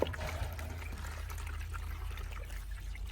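Cut aloe vera leaves being washed under running water, a steady close trickle and pour of water that continues without a break for a few seconds.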